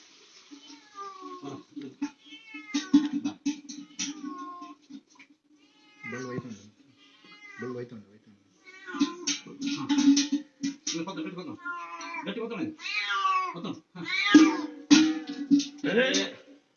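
A kitten trapped in a 40-foot well meows again and again, loud and insistent, in a long run of shrill cries with short pauses between, alone with no voices.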